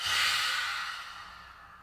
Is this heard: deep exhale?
yes